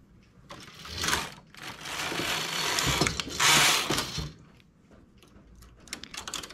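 Knitting machine carriage sliding across the needle bed in a few loud rattling, clattering passes with short pauses between, close up, while working a lace stitch adapted from hand knitting.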